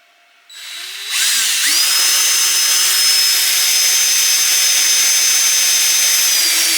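Power drill boring a 10mm hole in a plastic filament dry box, the motor spinning up and settling into a loud, steady high-pitched whine that carries on alone without pause.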